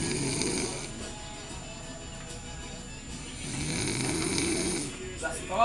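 A man snores in rhythmic, rasping breaths at Serra da Mesa. The snores are close and fairly loud, and faint background voices and noise run beneath them.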